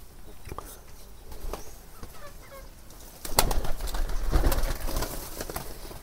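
Local pigeons feed at close range, with scattered sharp pecks and clicks, low coos, and a louder burst of fluttering and scuffling midway through.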